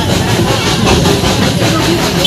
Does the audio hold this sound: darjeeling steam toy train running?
yes